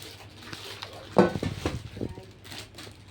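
Steel cooking pots and their lids clink and clatter as they are handled, with a few sharp metallic knocks spaced irregularly, fairly close and moderately quiet.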